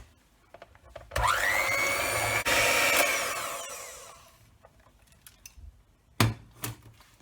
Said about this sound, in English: Using the whisk, beat the eggs in.